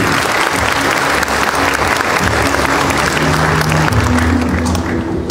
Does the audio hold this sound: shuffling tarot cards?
no